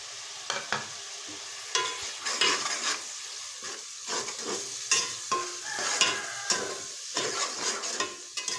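Spices are stirred into peas frying in a pan, an ongoing sizzle punctuated by repeated scraping and clinking strokes of a spoon against the metal at an uneven rhythm.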